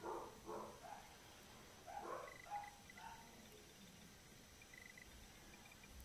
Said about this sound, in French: Il y a le chien des voisins qui s'excite.